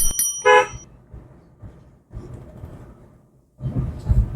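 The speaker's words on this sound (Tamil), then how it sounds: "ஒரு முறை ஹாரன்" A single short car horn honk near the start, followed by the low rumble of an engine and road noise.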